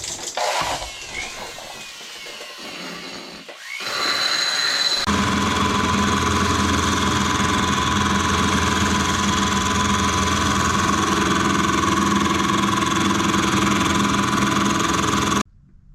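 A milling machine cutting a cylinder head for a Yamaha Banshee engine build, starting after a few seconds of clatter and then running as a loud, steady grinding whine that lasts nearly to the end.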